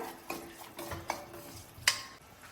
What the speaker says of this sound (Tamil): அந்த கோதுமை மாவு வாசம் வர வரைக்கும் வறுக்கலாம்